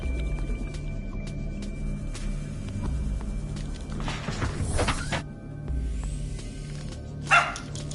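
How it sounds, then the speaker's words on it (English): A pet dog barks a few times in a home while a Subnautica game plays, its short yelps rising over a steady mechanical hum and clicks, with one sharp louder burst near the end. "I apologize for my dog being loud again"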